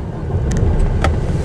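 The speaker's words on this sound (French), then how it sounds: "Je peux déjà mettre le camion en route." A truck engine running close by after starting up, a loud steady low rumble with a few brief clicks over it.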